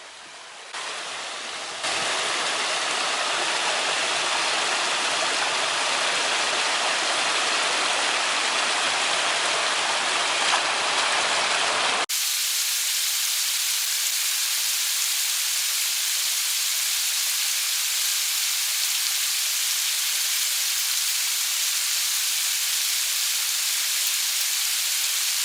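Water pours steadily out of a crack beneath a board at the edge of an eroded creek bank, a continuous close hiss and splash that grows louder after a few seconds and then turns softer and thinner partway through.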